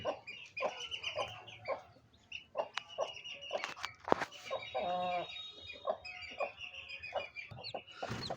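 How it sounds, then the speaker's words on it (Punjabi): An Aseel hen clucks repeatedly in short, rhythmic bursts, close and clear, with occasional louder squawks mixed in. "ਜਿਹੜੀ ਮੁਰਗੀ ਨੇ ਆਪਣੀ ਨੇ ਬੱਚੇ ਕੱਢ ਛੋੜੇ ਨੇ"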